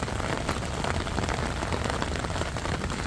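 Steady monsoon rain pours down outdoors near a garden and pond, a dense, unbroken hiss of drops pattering on surfaces, loud and close throughout with no voices.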